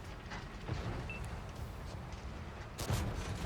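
Dull booming tank cannon shots in World of Tanks console game audio from a K-91 Version II, a louder blast near the end over steady rumbling engine noise.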